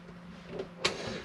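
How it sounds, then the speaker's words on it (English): A toggle under the catch of a Bessacarr E530 motorhome fridge door clips into place with a single short, sharp click against a quiet background. "underneath the catch you've got a little toggle here, so that just clips into here"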